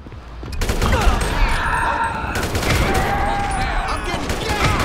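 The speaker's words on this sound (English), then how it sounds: "You shouldn't shoot him in the back." Rapid gunfire crackles continuously in GTA V, loud dense bursts of automatic shots throughout, with voices and game sounds mixed in.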